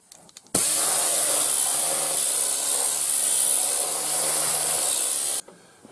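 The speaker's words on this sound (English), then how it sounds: "So as you can see, the Die Blaster does get into these areas better" A Die Blaster abrasive tool strips rust, underseal and paint in a loud, steady hissing blast lasting about five seconds, starting and stopping abruptly.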